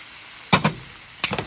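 Chopped onion, celery and carrot with pancetta sautéing in a pan for Bolognese: a steady, soft sizzle with a few louder stirring bursts, close up and with no talk.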